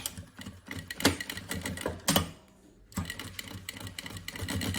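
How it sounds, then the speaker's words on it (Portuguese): A sewing machine topstitches along the edge of fabric and lining, running in fast rattling bursts with a brief pause in the middle, close and steady, with no talk. "E agora vamos fazer aqui uma costura à beirinha, nesta parte toda onde foi costurada"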